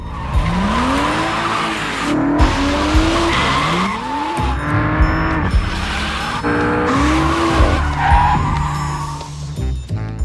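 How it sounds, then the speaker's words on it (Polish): A BMW 2 Series drifting, its engine revving and falling in repeated surges while tires squeal loudly throughout, close and continuous with no talk. "Jest to BMW Serii 2, którym polatasz bokiem."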